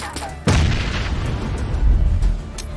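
A grenade goes off in the battle royale game PUBG with a sudden loud boom, followed by a heavy rumbling roar that sustains and swells for a couple of seconds.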